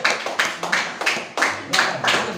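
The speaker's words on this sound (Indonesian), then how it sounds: "Kasih tepuk tangan buat kelompok terakhir." Classroom applause for the final student group in an eighth-grade lesson: several rhythmic bursts of group clapping, close and loud, each swelling and fading in roughly regular waves.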